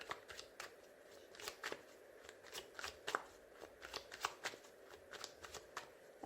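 Tarot cards are cut for a reading, giving a quick, papery run of close riffling and snapping card sounds. The sound is soft and irregular, with no voice over it.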